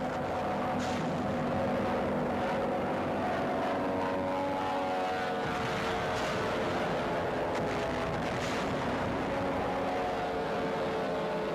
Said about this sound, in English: Bombers over Wesel.